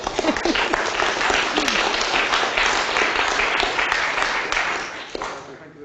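An audience applauds after a lecture, dense steady clapping filling the room for several seconds before tapering off.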